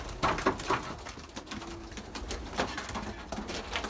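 Pigeons coo in a loft, soft repeated low calls coming in short bursts over a murmuring background, with a pigeon keeper looking over a bird thought to be a hen.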